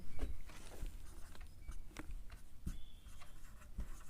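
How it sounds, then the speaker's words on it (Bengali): Writing on paper during a class 10 geometry lesson on circle tangents, with quiet scratching strokes and a few soft taps spread across the stretch, faint and close with no talking. "লিখছি দেখো"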